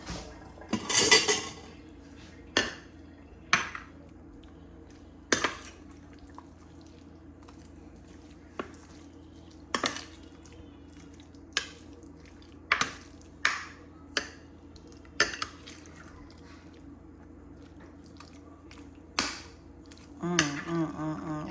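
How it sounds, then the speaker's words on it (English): A spoon stirs food mixed with buttermilk and a little hot sauce in a dish, giving scattered clinks and soft squishy scrapes at irregular intervals, close and fairly quiet, with no talking. "All right, so let me stir all of this together."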